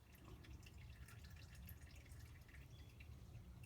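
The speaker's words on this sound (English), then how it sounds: "And we'll just wait for all the oil to drip." A steady liquid patter of engine oil dripping and trickling from the drain of a 1998-2005 VW Passat 1.8L during an oil change, continuous and fairly faint, with no voices.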